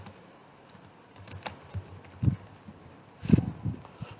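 Keys on a computer keyboard being typed in Microsoft Word, a few scattered light clicks followed by a brief burst of quicker taps, close and fairly quiet with no talking.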